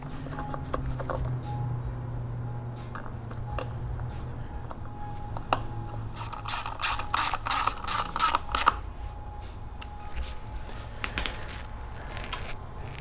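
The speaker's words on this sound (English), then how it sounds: "got to take this bolt out and this one. I'm going to do the same thing to all of these." Ratchet clicking in a clear burst midway, with scattered metallic taps around it, while bolts are removed from a Kohler EFI engine's fuel pump mount, over a low steady hum.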